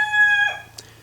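Chickens in a backyard coop near a stall door and chicken ladder give a single drawn-out, close crowing call, followed by a brief cluck, over a steady low hum.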